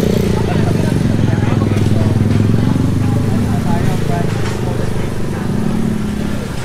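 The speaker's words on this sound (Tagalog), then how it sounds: "Kasama po natin yun, yung motor na yun." Motorcycle engine running nearby on a Manila street, a loud continuous rumble and drone that holds steady throughout, with a dense traffic wash underneath.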